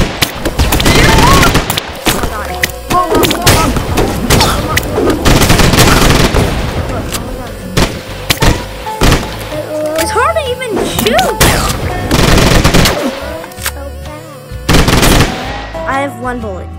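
Gunfire while aiming in the mobile game Swamp Attack, loud rapid machine-gun bursts that start and stop through the stretch, mixed with game effects, with a player talking over the shooting.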